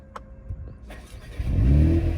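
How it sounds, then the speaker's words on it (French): A Mercedes A35 AMG starts after a few faint clicks and thumps, then the engine fires and settles into a loud, close, steady rumbling idle. "Démarre la voiture"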